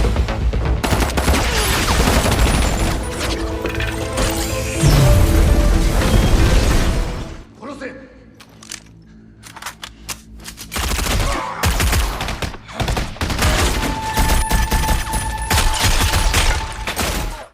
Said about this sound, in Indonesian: Di tengah aksi baku tembak